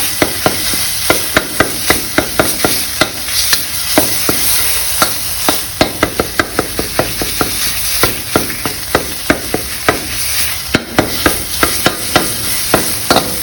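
Fish pieces stir-fried with Thai curry paste in a pan, heard as a constant loud sizzle broken by regular scraping and knocking strokes of a spatula against the pan, close up, with no talking.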